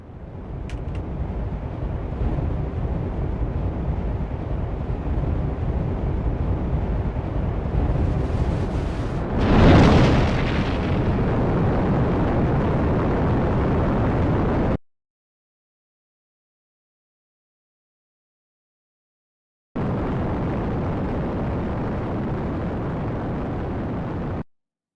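A rocket launching in the Minecraft modpack FTB Skies Expert, bound for Venus, makes a steady loud roar with a sharp whooshing burst midway, then cuts to silence before the rumble returns.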